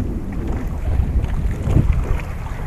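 A boat out on open sea in strong wind, with a steady roar of gusts buffeting the microphone over low rumbling water and hull noise throughout, no voices.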